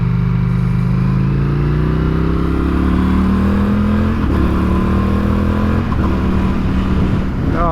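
An Indian FTR motorcycle rides through traffic, its engine loud and close throughout, rising and falling in pitch as it accelerates, with steady wind and road roar.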